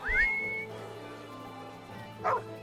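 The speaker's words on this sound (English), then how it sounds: "I whistle for Scratch" A single rising whistle calls a dog in the Baldur's Gate 3 video game, held briefly and then fading. A short dog yelp or whimper answers near the end over a low game ambience.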